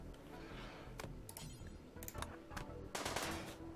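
Machine pistol gunfire in RimWorld aimed at an insect hive, quick clusters of small clicky shots in short bursts over quiet game ambience, fairly faint.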